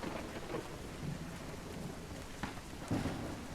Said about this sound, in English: I really like when it rains, when there's a storm outside.